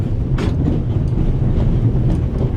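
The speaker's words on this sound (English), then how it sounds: "on an out-of-control train in the Alps" Out-of-control train racing through the Alps in the video game The Raven: Legacy of a Master Thief, a loud, continuous rumble with rhythmic clattering of the wheels, close and heard alone.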